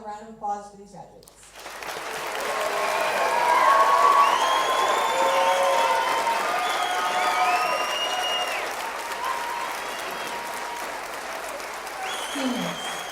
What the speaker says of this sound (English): Let's have a round of applause for these graduates.